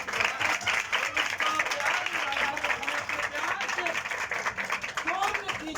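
Sustained applause from a crowd, dense and steady clapping throughout, with some voices mixed in.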